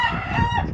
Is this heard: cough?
no